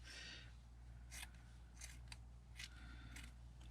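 Scissors snip through jersey knit fabric in several short, crisp bursts, close and fairly quiet over a steady low hum, with no voices.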